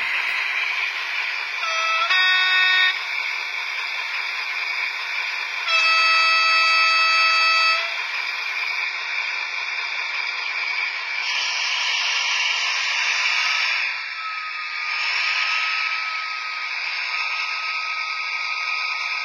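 A model diesel locomotive starts up with a realistic engine-sound module, giving a steady droning, horn-like tone with a few brief louder bursts early on, then a wavering sustained hum, fairly loud and close throughout.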